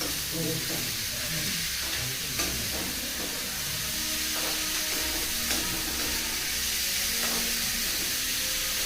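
Chopped onion dropped into hot oil in a pan while cooking a broad bean fry, sending up a loud, steady sizzling hiss that holds throughout.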